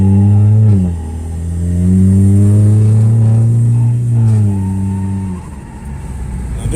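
A Gen 2 Chevrolet Cruze fitted with a TDO25S hybrid turbo running about 23 psi of boost accelerates hard. The loud engine revs climb and drop back at gear changes, then pull up again.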